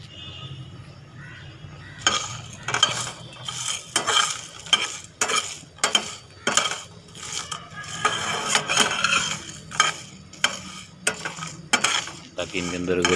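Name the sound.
dry roasting whole spices in a dry pan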